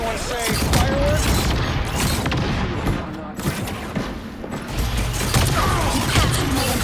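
Iron Man firing fireworks-like explosions in the video game Marvel Rivals: a dense barrage of rapid blasts and booms, loud and close, with brief in-game voice lines over the clatter.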